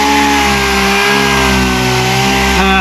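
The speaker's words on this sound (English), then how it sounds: "pass with our dual action sander" A dual action sander with 220 grit works over scratched boat gelcoat, producing a loud, continuous close-up motor whine with steady harmonics that shifts slightly near the end.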